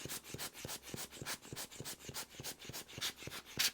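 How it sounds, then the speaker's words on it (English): A blower brush squeezed over a camera lens gives a rapid series of soft, close puffs of air, roughly three or four per second, faint and alone. "So all you need to do really is just apply the blower brush."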